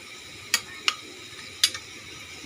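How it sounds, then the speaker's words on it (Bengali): Gulgula deep-fry in oil under a soft, steady sizzle while three sharp clicks of a utensil against the pan mark them being turned. "গুলগুলাকে আমি বেশ উল্টে পাল্টে লাল লাল করে ভেজে নেব"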